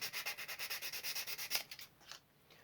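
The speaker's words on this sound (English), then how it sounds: "Rough up the underside with 240 of one of the fillers here." Fine 240-grit sandpaper rubbed across the underside of a model locomotive tank filler, a quick run of rhythmic, even scratching strokes that slows into a few looser rubs near the end, close and quiet, with no talking.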